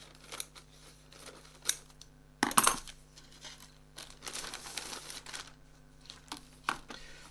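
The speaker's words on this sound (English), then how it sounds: "So, I'm going to use the scissors." Scissors cut open the plastic bag of a 1:24 scale SPAD S.XIII model kit, giving close crinkling and rustling with a sharp burst of snipping and tearing in the middle.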